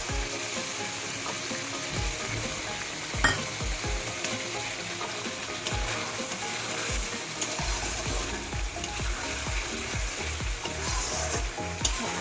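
Rita fish kosha, cooked without potatoes, fries in a pan as ground garam masala paste goes in, producing a continuous close sizzle with crackles and repeated scraping stirs and occasional sharp knocks.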